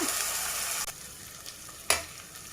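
Ginger paste fries in a pan for a dried mutton curry, giving a steady close sizzle with a couple of brief stirring scrapes.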